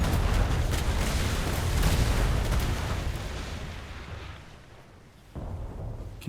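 A ship's port-side cannons fire in a naval roleplay game, the deep rumbling booms rolling together into a loud sustained broadside that fades over several seconds before a fresh burst of noise.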